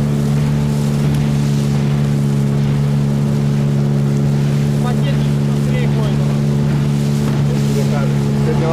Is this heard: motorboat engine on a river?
yes